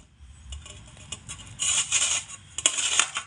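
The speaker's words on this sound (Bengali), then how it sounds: "ঠিক এভাবে করেই কিন্তু গ্রেট করে নিতে হবে।" Peeled medium-sized potatoes rubbed against the coarse side of a large grater, giving bursts of bright, gritty scraping strokes that grow louder and quicker toward the end, close up and with no talk.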